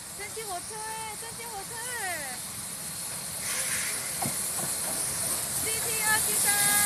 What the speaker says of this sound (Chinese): 蒸汽火车